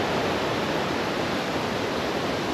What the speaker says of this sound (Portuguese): Tem um barulho forte de água agora.